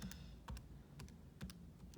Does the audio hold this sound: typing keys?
yes